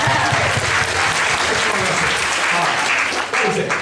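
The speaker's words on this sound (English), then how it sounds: "Everyone, round of applause." An audience at a Theology of the Body conference session bursts into loud, dense applause that carries on steadily throughout, with a brief dip near the end.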